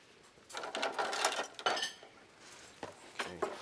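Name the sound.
whisking coconut oil mixture in a bowl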